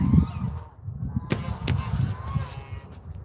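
Domestic geese honk nearby in short nasal calls, a few loud overlapping honks with two sharp cracking bursts in the middle, over a low rumbling background.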